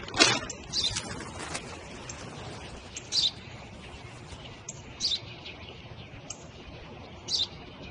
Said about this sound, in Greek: Ένα σπουργίτι είναι, πατέρα.